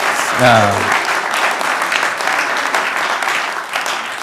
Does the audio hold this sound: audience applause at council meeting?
yes